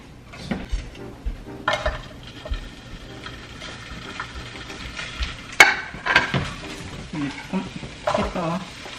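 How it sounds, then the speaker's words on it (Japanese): Stir-frying in a pan while making an American weekend breakfast, with bell pepper and paprika nearby: a spatula repeatedly scrapes and clacks against the pan over a steady sizzle, in irregular bursts with one sharp clank midway. "炒めていきます"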